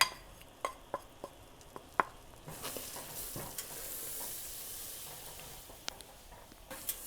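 Butter and all-purpose flour roux cooking in a pan for mac and cheese, a soft steady sizzle with scattered clicks of a utensil stirring and scraping, no voices.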